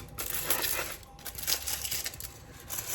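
Crisp snapping and crinkling of an oat milk dark chocolate bar breaking in its wrapper, several short cracks and rustles at close range, fairly quiet.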